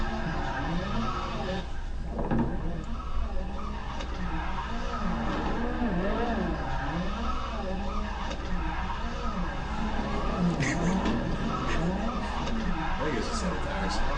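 A car engine drones steadily while tires squeal in long, wavering skids that rise and fall, loud and continuous throughout, with voices talking underneath.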